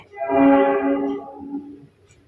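Train horn sounding as a train departs in a spooky narrated ghost story, one loud sustained tonal blast lasting about a second, then fading out, with no talk over it.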